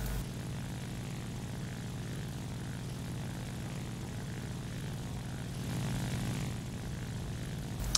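Propeller engines of a B-17 bomber drone steadily in flight in a video game, a loud continuous rumbling hum with a slight swell near the end and no voices.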